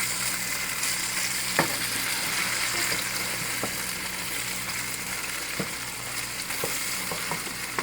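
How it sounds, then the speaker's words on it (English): Stewing beef browning in a frying pan, a constant close sizzle with scattered sharp clicks and scrapes as the meat is turned and stirred. "Just give it a flip over and get it brown on the other side."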